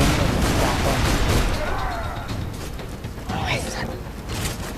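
Heavy gunfire from a powerful weapon in Borderlands 2, a dense continuous barrage of loud shots with people talking over it.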